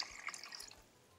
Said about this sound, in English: Next, I'm going to go ahead and add 6 cups of water.